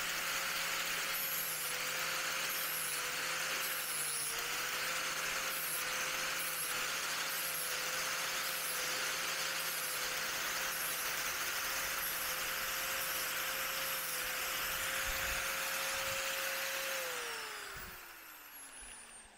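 An angle grinder cutting motorcycle parts for a Honda CB1100RS build, a loud, sustained whining drone that holds steady for a long stretch before the pitch slides down as the tool winds down near the end.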